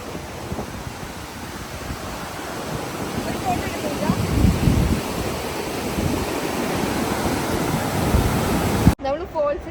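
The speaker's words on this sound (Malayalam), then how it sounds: "കൊതുക് കടിച്ച് മനുഷ്യനെ സൗണ്ട് കേൾക്കാല്ലോ ഇവിടെ ഫോൾസ്" A waterfall on a forest hike near Greater Sudbury gives a steady broadband rush of falling water with people's voices, the roar swelling midway before cutting off abruptly near the end.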